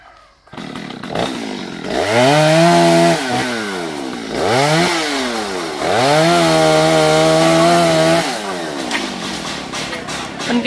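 A chainsaw cuts into a huge rain tree of over 300 hoành girth, its engine revving up and down in several long, loud, close bursts between brief idles.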